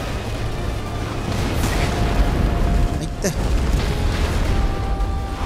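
Explosions rumble and boom through the action video game Stellar Blade, with one sharp blast standing out midway amid constant dense battle noise, while a player talks over it.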